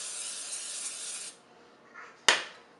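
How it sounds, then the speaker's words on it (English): Pam olive oil cooking spray misted onto an Orgreenic non-stick frying pan, a close steady hiss for over a second, then quiet with a sharp brief click near the end. "I like to put some just Pam olive oil spread on it."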